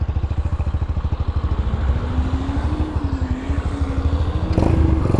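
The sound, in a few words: Chinese motorcycle with aftermarket exhaust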